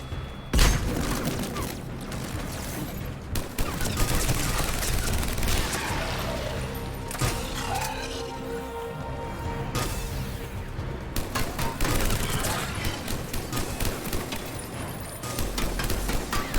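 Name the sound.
enemy gunfire in a long-range fight, video game Mass Effect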